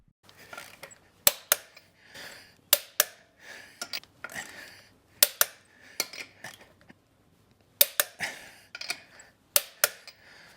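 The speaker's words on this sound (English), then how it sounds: "then torque the nuts in a star pattern to 130 foot-pounds" A torque wrench tightens wheel lug nuts on a Jeep steel wheel, giving sharp, close metallic clicks in short bursts with quiet gaps between nuts.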